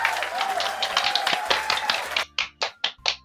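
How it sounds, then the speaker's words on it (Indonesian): Hands clap close to the microphone: a quick flurry of overlapping claps, then five distinct, sharp claps in a slower, even rhythm. "Jadi deh, tepuk tangan."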